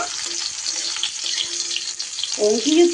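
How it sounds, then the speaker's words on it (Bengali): Carrot pieces and other vegetables stirred in a hot pan give a steady close sizzle with light scraping, and a brief clatter of stirring near the end. "সবজিগুলো একটু হালকা করে নাড়াচাড়া করে নেব"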